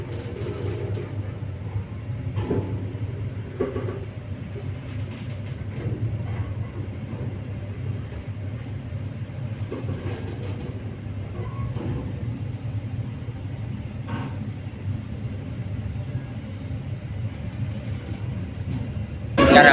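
Continuous low rumble inside a moving Indonesian train's dining car, steady and even, with faint clicks and rattles over it.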